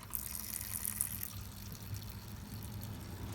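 Coolant drains from the radiator of a 1993 Buick Park Avenue into a drip pan, a steady close trickle and splash of liquid with faint dripping on top, continuous throughout.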